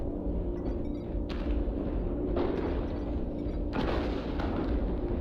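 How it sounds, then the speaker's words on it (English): Repeated deep airstrike explosions from the video game MechWarrior Online rumble in a dense, continuous barrage, with heavy booms at regular intervals over a constant low roar of battle noise. "Airstrike online."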